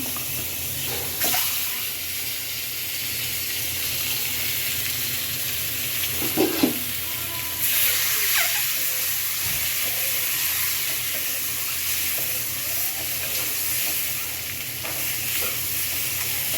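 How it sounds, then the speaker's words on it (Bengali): An egg fries in a pan with salt and turmeric, giving a steady, close sizzle with a few soft stirring knocks and scrapes partway through. No one speaks. "শুধু ভেজে নিয়ে ডালের মধ্যে দিয়ে দিব"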